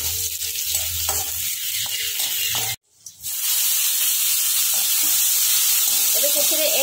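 Garlic and dried chili hit hot mustard oil in a wok: a gentle sizzle, a sharp break as the pan sound cuts out, then a loud, sustained frying hiss close by.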